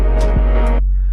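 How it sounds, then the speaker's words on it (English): Dry percussion in a simple underground hip-hop beat built in FL Studio plays with no effects: a tonal, ringing loop marked by a single deep thump, cutting off abruptly. "This is just percussion."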